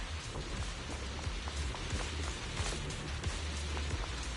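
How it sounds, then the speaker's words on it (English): Wind and rain in the video game Zenless Zone Zero, a soft steady wash of falling rain with scattered drop patters and a low windy rumble underneath, faint and continuous with no voices. "The wind and rain are picking up."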